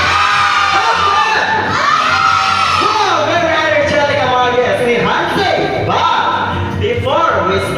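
A crowd of children at a seventh birthday party shouts and cheers loudly and continuously, with overlapping yells and whoops filling the whole stretch.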